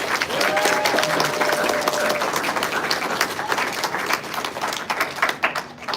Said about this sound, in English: Can we give these folks a big round of applause?